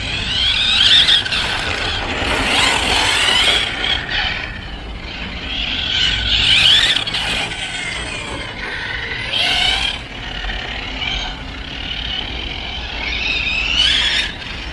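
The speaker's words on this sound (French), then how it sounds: "la transmission elle est très très bruyante sur ce châssis" A Hobao 10SC short-course RC car with a very noisy transmission runs continuously and loud, with whining, squealing drivetrain tones that rise and fall as it accelerates.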